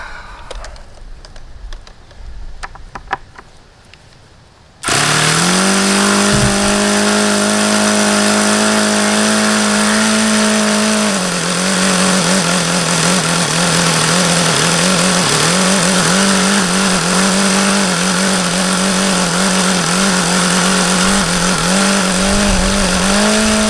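After a few seconds of quiet handling noises, an HP VT 21 nitro engine, running rich, fires up and idles low. Its loud, steady buzzing drone holds for the rest of the stretch, with a slight dip in pitch partway through.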